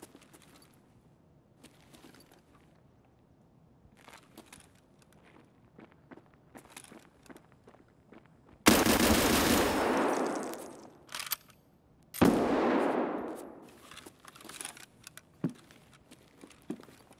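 Two loud, sudden shotgun blasts in a PvP shooter match during an early wipe, each a broad burst that decays over a couple of seconds, separated by a short gap, over quiet footsteps and soft ambient clicks.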